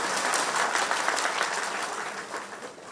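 Audience applause at a public event in Kerala: dense, steady clapping from a crowd, loud and continuous for the whole stretch with no voices over it.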